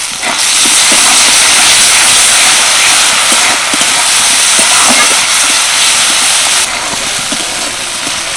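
Two small chopped tomatoes fry in a pan over lightly fried onion and garlic, giving a loud, steady sizzling hiss that drops slightly near the end, with faint crackles and no voice.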